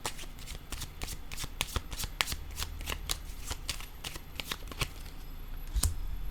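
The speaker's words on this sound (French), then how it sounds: "je vais déposer une autre carte ici" Tarot cards handled and laid on a table, a rapid run of crisp flicks and soft slaps from the deck, close and fairly quiet.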